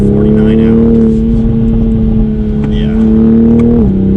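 A Toyota A90 Supra's engine holds a steady, droning note under hard acceleration on a race track, then the pitch drops briefly near the end; a person talks over it.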